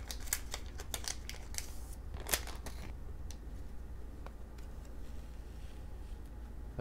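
Scissors snip open a Pokémon Darkness Ablaze card blister pack in a series of sharp, close clicks and crisp cuts, busiest in the first few seconds, then sparse light ticks, with no talking.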